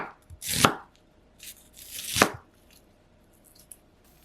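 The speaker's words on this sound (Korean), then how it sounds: "양파 반 개도 가늘게 채 썰어주세요" A knife cuts thin slices through half an onion on a board, two main clusters of crisp slicing strokes with a few lighter taps between and after, close and otherwise quiet, no talking.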